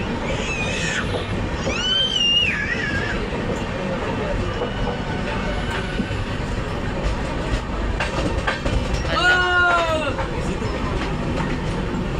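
A train rolls along steadily while it overtakes the Vivek Express, with a continuous rumble and clatter and brief metallic squeals near the start and again later. The rolling noise stays loud and close throughout.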